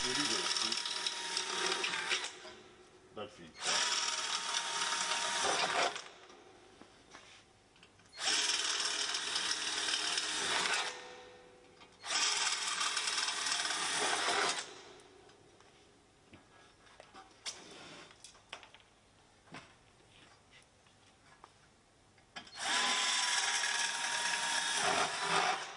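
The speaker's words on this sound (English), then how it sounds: "Now, we physically drill out the filter rivets." A power drill with a 4mm bit bores out the rivets on a filter in several loud, whining bursts of a few seconds each, separated by quieter handling and mechanical clatter.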